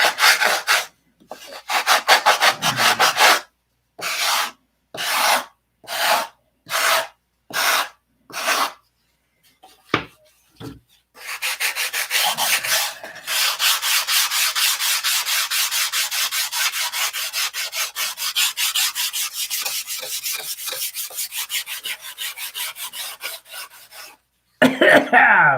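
Wood is hand-sanded while working on a new plane, first in a series of short separate scrubbing strokes, then in a long run of rapid, rhythmic back-and-forth rubbing, close and loud.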